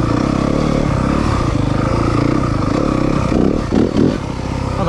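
A 2023 Yamaha 250FX dirt bike idles and pulls along in first gear on a tight trail, its engine close and steady throughout with a few louder revving bursts near the end.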